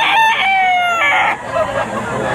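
A gamefowl rooster crows loudly and close by at a busy buyer-and-seller market, its drawn-out cock-a-doodle-doo repeating twice with harmonic calls, set against faint crowd murmur.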